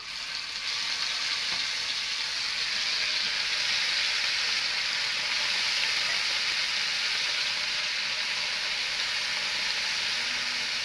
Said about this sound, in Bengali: এখন আমার তেলটা গরম হয়ে গেছে আমি মাছকে এখন দিয়ে নেবো